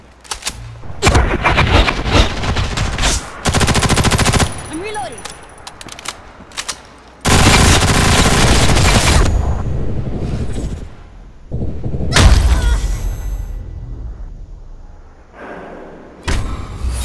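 Gunfire from the online shooter Ghost in the Shell: Stand Alone Complex First Assault Online comes in loud, dense bursts separated by short pauses, with a voice heard between the volleys.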